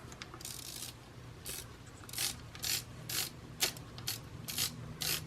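Film advance crank of a Hasselblad Super Wide C camera being wound, a close series of quiet ratcheting clicks in regular bursts with no voices.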